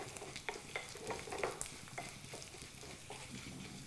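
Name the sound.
peppercorns and spices roasting in a pan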